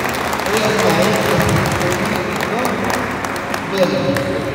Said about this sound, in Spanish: Fuertes aplausos a Maritza